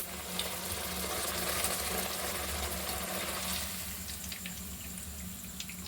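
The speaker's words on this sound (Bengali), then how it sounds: "একটা একটা করে আমি ছেড়ে দেবো সুন্দর করে ভেজে নেবো" Batter-dipped shiuli (night jasmine) leaf fritters fry in hot oil with a steady, close, hissing sizzle that softens slightly toward the end.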